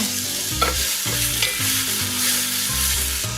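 Chopped onions frying in oil in a pot for minestrone soup, a steady close sizzle running throughout with occasional clunks of stirring, heard alone without talk.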